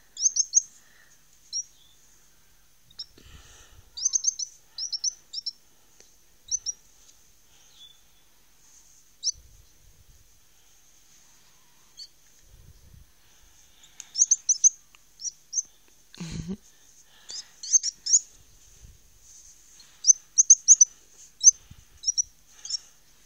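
A young wren chirps in high, thin bursts of rapid tweets scattered across a quiet room, near and clear with long pauses between bouts.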